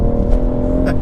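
A BMW M140i pulls hard in first gear with the throttle held flat out, giving a loud, close engine roar with steady harmonic tones over a short burst.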